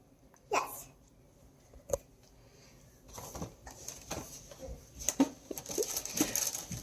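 A child hiccups several times, sharp isolated catches of breath separated by pauses, then murmuring and small movement noises build up toward the end, close to the microphone.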